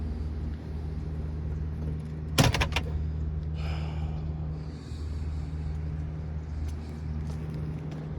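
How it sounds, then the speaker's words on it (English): A single car door slam with a quick rattle cuts through a steady low engine rumble, followed by faint shuffling. "the door is slamming in the car"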